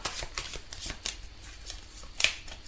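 A deck of tarot cards being shuffled by hand, a run of quick papery riffles and slaps close up, with no talking.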